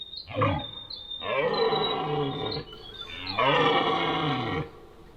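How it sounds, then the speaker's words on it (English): Red deer stag roaring in a valley: deep, guttural, lion-like bellows in about three drawn-out calls, fairly close and rising and falling in pitch, carrying over a quiet outdoor background. "if you don't know what a roaring stag sounds like, it's a lot different to a bull elk. It's like a guttural lion roar."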